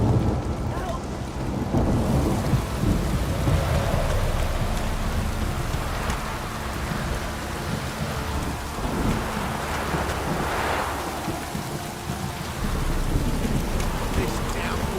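Heavy downpour pours steadily in The Witcher video game, with rolling thunder rumbling low beneath the constant hiss of rain throughout.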